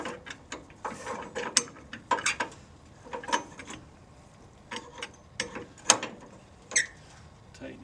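Short bursts of ratchet clicks come from tightening a Titan strap roller, separated by pauses and a few metallic clanks, close and fairly crisp.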